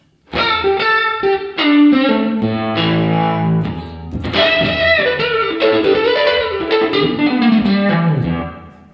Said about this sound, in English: I can hear the room like when you crank it all the way up. It's like a really big room sound.